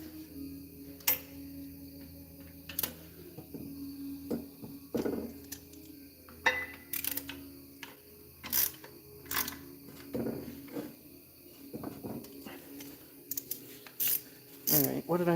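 Metallic clicks, ratcheting and clinks from bolts being tightened on a small tractor come in irregular bursts, close and fairly quiet against a hushed background.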